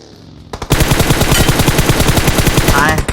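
Rapid automatic gunfire in PUBG Mobile, a dense, loud burst of repeated shots lasting several seconds after a brief quiet start.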